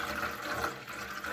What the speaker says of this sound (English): So we're just gonna fill it up with at least a pint of water